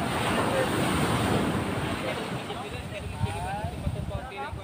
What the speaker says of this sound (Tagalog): lalaki na alon